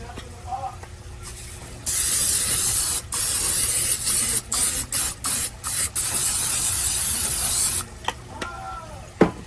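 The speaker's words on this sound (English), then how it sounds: "we are going to spray our baking dish with some Pam." Several bursts of Pam cooking spray hissing close by onto a baking dish, a long continuous spray followed by short quick spurts, with faint background noise before and after.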